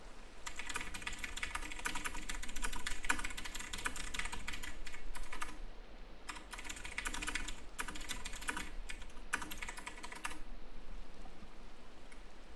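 Typing on a computer keyboard while playing Minecraft: rapid, close clatter of keystrokes in bursts separated by short pauses, with no voices.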